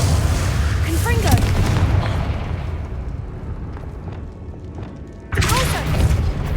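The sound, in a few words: Confringo spell explosion from a video game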